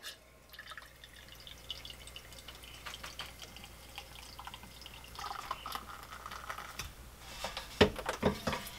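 Home-brewed beer pours from a keg tap pressurized to about 10 PSI: a faint, steady liquid trickle that swells into louder splashing and gurgling near the end as the glass fills.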